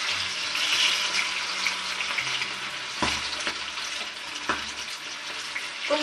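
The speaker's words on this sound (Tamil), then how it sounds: "அப்படியே போட்டு எண்ணெயில போட்டு அப்படியே பொரிச்சு எடுத்துடணும்" Masala-coated quail fries in hot oil with a dense, steady crackling sizzle, broken by a few dull knocks of a utensil.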